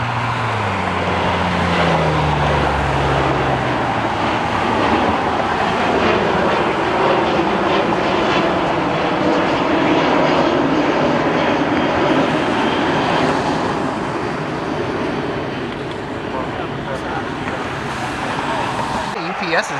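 A UPS cargo jet taxis out toward the runway, its engine roar a loud, sustained rumble that rises and holds with a falling whine early on, heard from nearby at the airfield.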